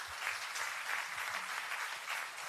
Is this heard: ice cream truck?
no